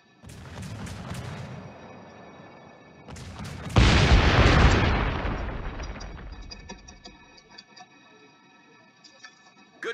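Naval gunfire in the World of Warships video game: a booming salvo rolls out and decays over a couple of seconds, with earlier muffled blasts and faint ticking clicks as the sound fades.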